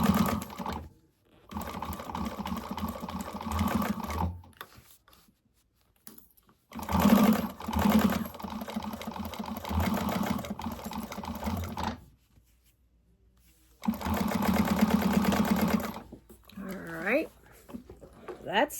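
A sewing machine runs through bag layers in several separate bursts, stopping and starting with short pauses between runs, close and fairly loud, with bits of speech in the quiet gaps.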